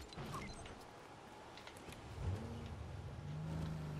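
A car driving in the Lego Fortnite video game at dusk, a steady mid-range engine hum with a rise as it accelerates partway through, tonal whine near the end, no talking.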